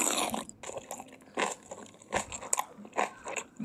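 Crisp, crunchy bites and chewing repeat in quick bursts, close and loud, with short pauses between crunches.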